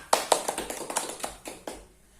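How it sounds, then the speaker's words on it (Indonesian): Schoolchildren in a classroom clapping, about eight sharp claps in a quick, slightly uneven rhythm, fairly close, ending abruptly and leaving quiet. "Tepuk tangan dulu"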